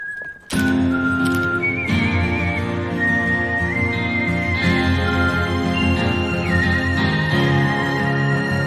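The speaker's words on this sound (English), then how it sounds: "As soon as the whistling starts" A whistled melody carries a film soundtrack, clear sustained tones gliding between pitches over a loud, full musical backing that enters abruptly and continues throughout.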